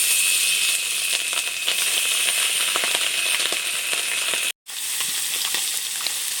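Bhetki fish caught from a river, dusted with chilli powder and frying in a pan: a steady, dense sizzle with sharp crackles and pops, close and continuous, broken by a brief dropout near the end.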